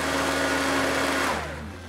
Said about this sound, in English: we are going to use a blender for the wet ingredients, because we need to blend up these dates with the puree and the chia and the coconut oil